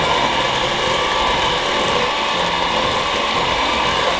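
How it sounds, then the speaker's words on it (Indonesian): Electric mixer running at low speed while mixing a fried meatball (bakso goreng) batter, giving a steady, continuous mechanical whir and rattle that holds level throughout. "Ya, kita mau ratain dia, tapi pakai mixer."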